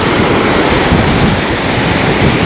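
Steady broadband roar of sea surf mixed with buffeting wind at a coast near the Somaliland–Djibouti border, loud and continuous throughout with no voices.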